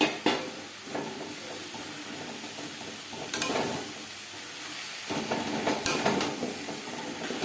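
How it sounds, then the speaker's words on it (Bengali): Chicken tossed into a pan of spices already frying, giving a steady close sizzle and hiss with a few louder bursts of crackle as pieces hit the hot oil. "মশলা ভেজে নেওয়ার পর দিয়ে দেবো চিকেন"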